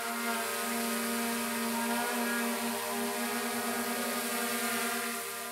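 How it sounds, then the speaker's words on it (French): A DJI Mini 3 Pro drone in flight gives a steady, continuous propeller whine with layered tonal hum, holding at an even loudness throughout with no voices. "Concernant le bruit, ça reste relativement acceptable pour ce drone."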